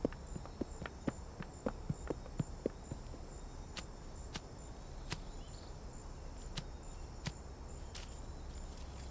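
A horse walks during riding practice, its hooves giving faint, irregular clip-clop knocks, quicker at first and then more spaced out, over a quiet outdoor background.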